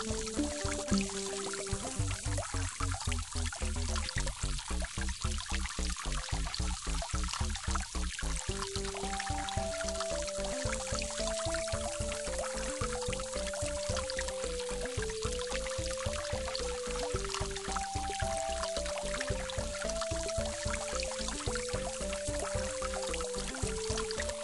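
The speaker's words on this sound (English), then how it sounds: "The water is bouncing off the ladle." Water pours from a ladle in the Play and Learn Science game, a continuous bright splashing trickle running the whole time alongside a looping melodic game tune.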